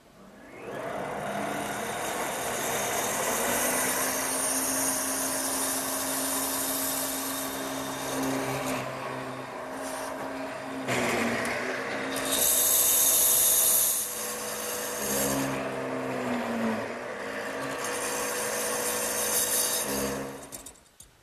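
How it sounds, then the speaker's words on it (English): Drill press boring a series of plunge cuts to form a 3/4 inch deep mortise in a wooden drop-leaf table leg, a steady close motor whine with shifting cutting tones across several plunges, no talk. "I've also set the depth of the drill press so that I end up with about a 3/4 inch deep mortise."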